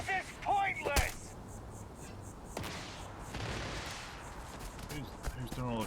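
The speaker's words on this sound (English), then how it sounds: "Who's doing all the shooting over here?" Gunfire in Starfield sounds as a few sharp single shots spaced apart, moderately close, over a noisy background, with someone talking at the start and end.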